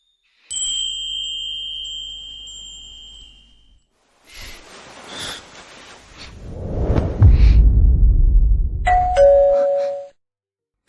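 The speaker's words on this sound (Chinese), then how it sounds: "这门铃声太刺耳了" An electronic doorbell chime rings with steady tones for a few seconds, followed by a rushing swoosh and rumble, then a second short chime near the end, indoors and fairly loud.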